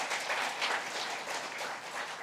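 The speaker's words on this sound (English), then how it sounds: "A big round of applause for that wonderful session, please." Audience applause at a one-day tax audit seminar, a continuous wash of clapping heard from a distance, soft and even.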